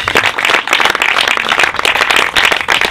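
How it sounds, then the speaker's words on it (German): Steady, dense clapping from an audience at a Hessian Tennis Association event presenting its tennis balls, filling the whole stretch without a break and without speech. "Das nochmal ein Applaus wert."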